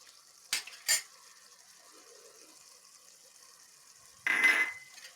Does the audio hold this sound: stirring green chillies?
yes